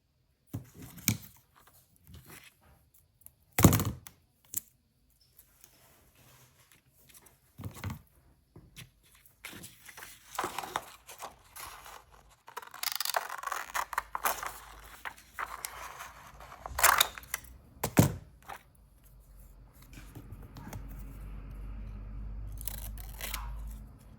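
Scissors cut paper for junk journal bingo cards, sounding as scattered close snips and crisp rustling handling noises, irregular and fairly loud, with quieter pauses between cuts.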